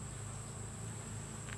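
Honey bees at an open hive make a steady high-pitched buzz, constant and close throughout the brief moment, with low background rumble.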